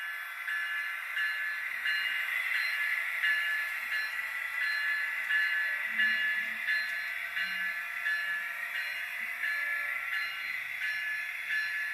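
A Union Pacific 1111 model locomotive runs with a factory-installed ESU LokSound decoder, giving a steady synthetic engine drone with bright hiss from a small speaker. It holds even and unbroken throughout, close by, with no talking.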